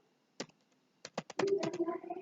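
Short bursts of keystrokes on a computer keyboard, a few isolated taps and then a quicker run, close and fairly quiet, with a soft voice coming in near the end.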